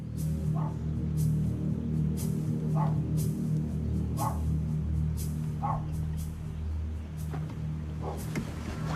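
A chihuahua barks behind a closed door, a regular series of muffled yaps spaced about a second apart over a low steady background hum.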